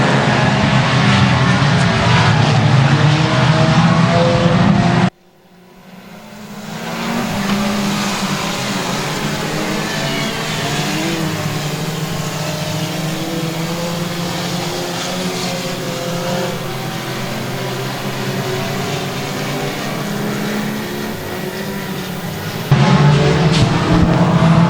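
Four-cylinder race cars roaring around the Boothill Speedway dirt track, a loud sustained engine drone with shifting revs from a pack of cars, steady and close, with an abrupt cut partway through.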